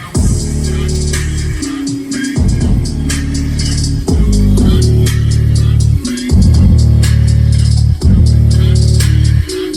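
Car subwoofers mounted in a box facing the back wall pound out heavy, throbbing bass under music, loud and sustained with brief drops between phrases, no talking.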